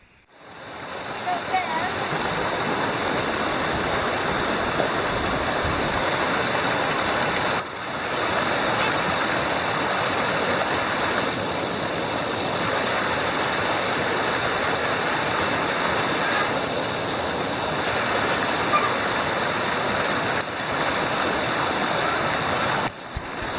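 River water rushes loudly and steadily around someone standing midstream in snowy mountain country, a constant broadband roar with brief dips, and a voice at times over it.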